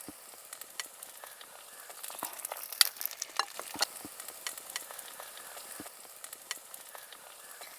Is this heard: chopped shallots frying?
yes